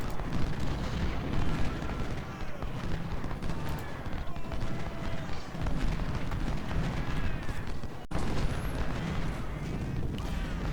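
Artillery fire from a Civil War battle at Gaines' Mill in Ultimate General: Civil War, with dense, continuous cannon booms and rumbling blasts layered into a steady, loud battlefield din throughout.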